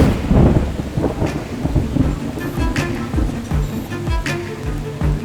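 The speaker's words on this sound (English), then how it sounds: "the rain had started to pour" Heavy rain pouring at a race track with rumbling thunder, dense loud hiss of rain punctuated by low crackling rolls and close sharp drips and spatters.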